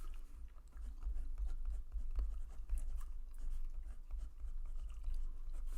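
Marker or chalk scratches steadily across a board while an equation is written out, a close, continuous run of short strokes and squeaks with no talking.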